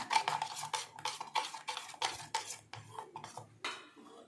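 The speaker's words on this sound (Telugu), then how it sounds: "తగినంత సాల్ట్ వేసుకొని మనము దీన్ని బాగా ఇలా కలిపి ఉంచుకుందాం" A spoon or whisk beats bun dosa batter seasoned with salt and soda in a metal bowl, giving a quick, rhythmic series of scraping clinks and sloshes close to the microphone, with no talking.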